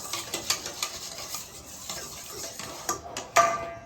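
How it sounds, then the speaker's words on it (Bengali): Sour curd is whisked in a bowl, producing quick, rhythmic clicking and scraping strokes close by, with a couple of louder knocks at the end. "টক দইটাকে আমি একটু ফেটিয়ে দেব।"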